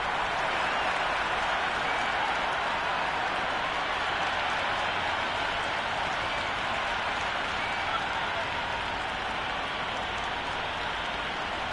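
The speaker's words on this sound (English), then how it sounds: "We're about to get underway and already the crowd is up and about." A large cricket stadium crowd at a Men's T20 World Cup match between South Africa and Canada in Ahmedabad cheers and applauds before play begins, a dense, continuous roar of clapping and voices with no breaks.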